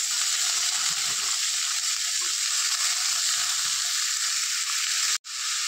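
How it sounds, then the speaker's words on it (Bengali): Green beans, flat beans and tomatoes fry in a pan with onion and garlic, a steady loud sizzle that continues unbroken until a brief dropout near the end. "এবার দিয়ে দেব ফরাসর বিচি, শিম আর টমেটো।"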